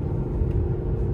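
A Buick's engine and road noise heard from inside during a test drive at a car auction, a steady low rumble and hum at speed with no talk over it.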